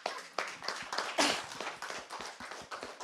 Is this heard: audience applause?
yes